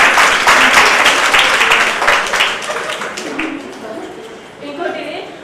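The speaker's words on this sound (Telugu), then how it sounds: "వాళ్ళందరికీ చప్పట్లు కొట్టాలి" A crowd applauds bus conductors at an RTC bus stand during an International Women's Day event, with loud, dense clapping that gradually thins and fades, a brief swell near the end.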